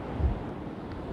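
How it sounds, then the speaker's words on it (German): Steady outdoor wind buffeting a microphone on a mild sunny day in Peru, a constant low rumbling roar with no talk. "Ist natürlich ein bisschen windig."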